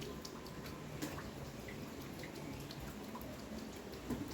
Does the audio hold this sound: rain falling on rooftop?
yes